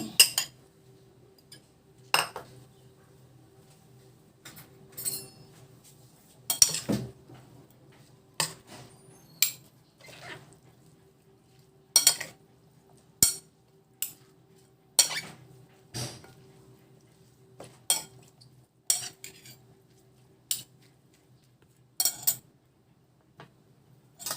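A utensil clinks sharply against a bowl in steady, spaced taps while kinilaw of sweet potato tops is mixed, close by and fairly quiet, with a faint hum underneath.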